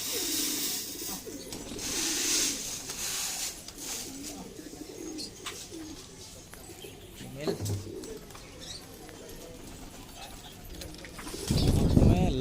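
High flyer pigeons coo in low, throaty bursts, with soft rustling and faint voices in the background.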